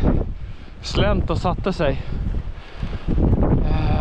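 Strong wind buffets the microphone on a winter mountain during a ptarmigan hunt, a rough continuous roar that rises and falls while someone talks over it.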